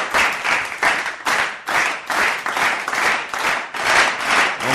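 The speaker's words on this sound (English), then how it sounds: "Or you can keep clapping, it's okay." Studio audience at a talk show clapping and applauding, a loud, dense burst of many hands close by that swells and dips in waves for the whole stretch, with no talk over it.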